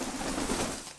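A pet pigeon or dove gives a brief, soft cooing call lasting about a second, heard close and alone.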